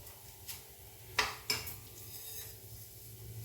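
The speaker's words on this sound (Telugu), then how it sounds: "కొన్ని మెంతులు వేస్తున్నాను ఒక పావు టీ స్పూన్" Fenugreek seeds are tipped into a hot pan, giving two sharp metallic clinks of spoon on pan followed by a faint soft sizzle, close and brief with no talking.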